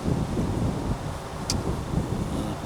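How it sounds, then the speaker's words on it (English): Strong wind whipping through outdoors, producing loud, continuous low rumbling buffets against the microphone with gusty swells and no voices. "I think that wind is probably making this video ruined, huh? It's really whipping through now."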